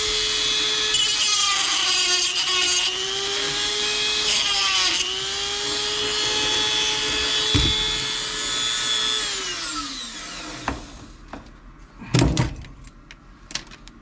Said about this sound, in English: Give me a second, and I'll cut that off using a Dremel motor tool